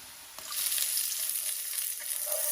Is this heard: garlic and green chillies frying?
yes